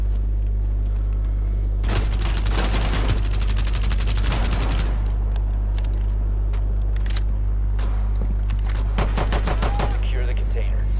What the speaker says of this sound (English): Oh no, I just got shot at.